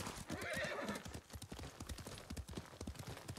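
Rapid rhythmic hoofbeats of a galloping horse, steady and fairly close, with a brief whinny near the start, from the video game Ghost of Tsushima.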